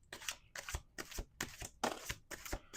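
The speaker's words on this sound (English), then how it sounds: "Let's do two more shuffles." Repeated crisp riffling bursts of tarot cards being shuffled, about six quick shuffles in steady rhythm, close and clear with no talking.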